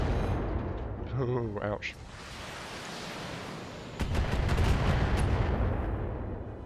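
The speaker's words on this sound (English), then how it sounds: "The Jenna's going to eat a medium laser and an LRM-10 in the face." Medium laser and LRM-10 missile fire in BattleTech, a dense rumbling barrage of impacts and crackling shots that swells in the second half, with a brief spoken exclamation early on.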